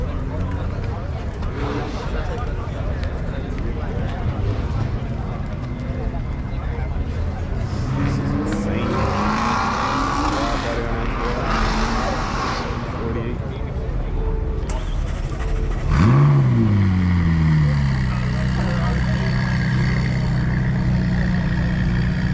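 Ferrari California T driving, its engine a steady drone through the cabin with a sharp rev rising near the end, while someone talks over it throughout.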